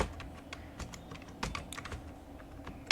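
Fingers tap on a computer keyboard while entering data into a spreadsheet: irregular, quiet keystrokes in short bursts, with a sharper clack at the end and no talking.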